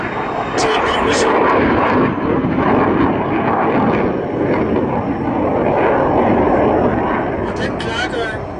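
JAS 39 Gripen jet fighter at the 2009 Roskilde Airshow, a loud, steady roar of jet engine noise filling the whole stretch with little change in level.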